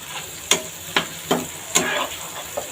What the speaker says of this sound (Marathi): याच्यामध्ये अद्रक लसूणची पेस्ट टाकलेली आहे. सो ही सुद्धा आपण फ्राय होऊ देऊया.